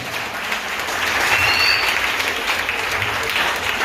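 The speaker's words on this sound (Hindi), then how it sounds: "सीधा कमाल, तालियां हो जाए।" A crowd breaks into sustained applause, clapping swelling louder after the first second and continuing steadily to the end.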